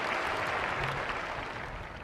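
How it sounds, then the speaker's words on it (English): A crowd applauds and cheers for Lucy during a speech, a steady wash of clapping from a large audience, fairly distant and even throughout. "Let's cheer Lucy."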